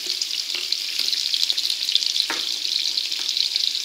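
Meatballs made from two kinds of meat frying in a pan, giving a steady close sizzle with occasional soft pops and crackles and no talking.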